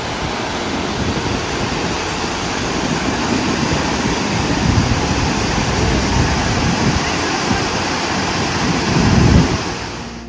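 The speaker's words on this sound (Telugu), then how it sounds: "చూసారు కదా జంగ్ వాటర్ ఫాల్ ఎంత బ్యూటిఫుల్గా ఉందంటే" Jang waterfall in Arunachal Pradesh sends out a loud, steady roar of rushing water, a dense broadband wash that swells slightly near the end, with no clear speech.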